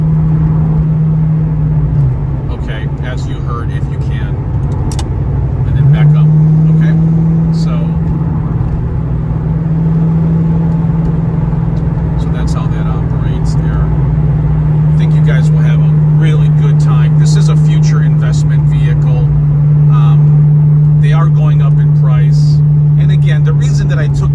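A 1990 Ford Mustang GT engine drones steadily while cruising in regular drive, a loud low hum that shifts pitch slightly as RPM changes, with someone talking over it throughout.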